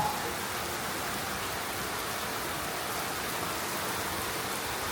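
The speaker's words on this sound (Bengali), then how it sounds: "আচমকা বৃষ্টি, লাস্ট কয়েকদিন সবসময় সকালের দিকে বৃষ্টি হয়েছে" Sudden rain falling steadily, a dense even wash of drops on surfaces that stays constant and fairly close throughout.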